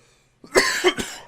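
A short burst of loud, rough coughs up close, three hacking bursts in quick succession.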